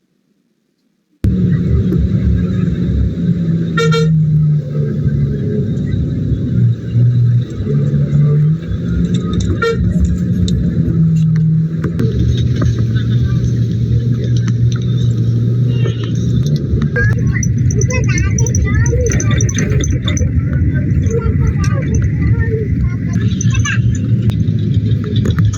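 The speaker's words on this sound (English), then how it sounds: "This is the bus that is called Tupac bus that takes us to Gambia." Loud, steady rumble of a bus engine on the road from Cotonou toward Mali, with car horns tooting repeatedly around it and voices talking under the traffic noise.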